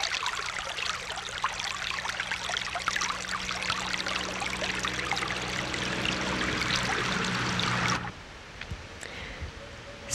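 Water of the Vacon spring and the river it feeds in the Meuse valley, flowing steadily with a dense rushing and trickling sound that continues for about eight seconds before dropping abruptly to a faint background.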